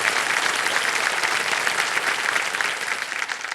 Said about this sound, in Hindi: इतना आप लोग ताली बजाते हैं